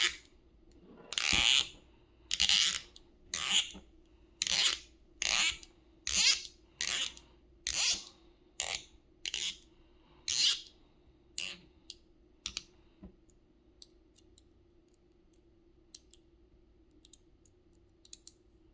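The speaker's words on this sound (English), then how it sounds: "you're going to want to screw in the other screws" Screws being driven in during assembly of a SWYFT Slide V2, a series of a dozen or so sharp, evenly spaced clicks and ratchet-like ticks, close and fairly quiet, fading into near silence.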